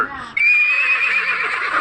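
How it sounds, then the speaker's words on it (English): A horse's neigh played in reverse: a loud, close whinny that swells into a long, high, wavering tone instead of trailing off, heard alone without talk. "Horse."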